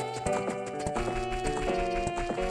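Rhythmic horse hoofbeats in the video game Zelda Master Quest 3D, a quick steady clip-clop over game music, with no speech.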